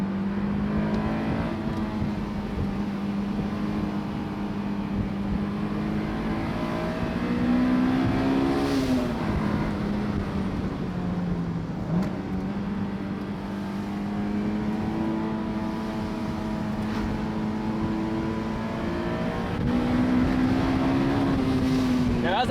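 Honda S2000 AP1 engine pulling hard through corners on a bumpy canyon road, a loud sustained drone whose pitch rises and dips as the car accelerates and lifts between bends.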